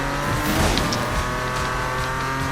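Race car engine in Need for Speed drives at high revs as a steady loud drone, with tire squeal and a brief bump of impact near the start, and no talking.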